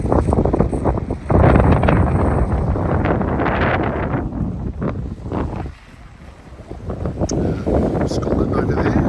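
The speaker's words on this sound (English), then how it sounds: "Probably you'll hear the wind." Strong wind buffets the microphone on the seaside promenade at Silloth, a loud continuous roar with gusty surges that dips briefly before rising again.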